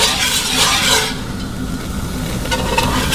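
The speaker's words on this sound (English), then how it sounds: "Just frying this stuff up." A hot roux of flour fries over high heat while being stirred in a pan for shrimp creole, with loud continuous sizzling and scraping.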